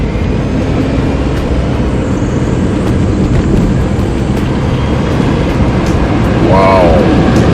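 An electric car pulls away and gains speed, a steady broadband road and motor hum filling the cabin throughout, with a brief whine rising near the end.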